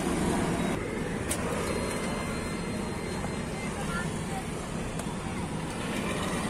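The AC blower fan of a Mahindra Scorpio runs after repair, a steady, smooth broadband whoosh of air that holds even from start to finish without rattles, heard close inside the car.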